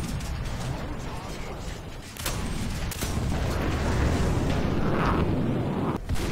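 A tank's ammunition cooks off in War Thunder, a roaring blast followed by a sustained hissing rush of escaping pressurized gas with sharp cracks breaking through, loud and close, with a voice talking over part of it.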